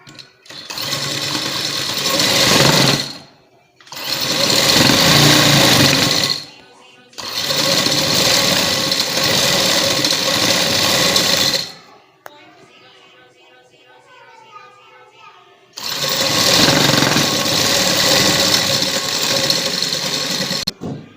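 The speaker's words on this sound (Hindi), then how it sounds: "अब इन्हीं लाइनों के ऊपर हम वाइट धागे के साथ स्टिचिंग करेंगे।" A sewing machine stitches white thread along ruled lines on a trouser panel, running loud in four long bursts of steady buzzing broken by short pauses, with a quieter stretch of speech in between.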